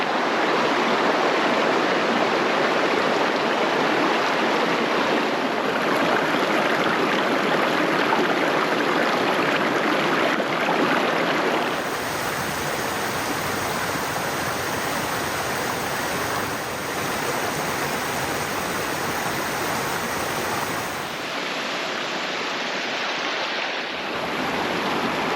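A mountain stream rushes steadily over rocks at a trail crossing after rain in New Hampshire's White Mountains, a constant broad wash of flowing water close by with no talking.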